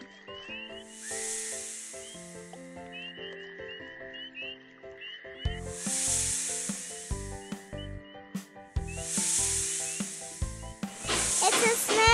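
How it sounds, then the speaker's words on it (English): A cartoon snake gives three long, airy hisses, each lasting a second or more, over bouncy children's music, with the last hiss overlapping other playful sound effects. "S makes the sound S as in snake."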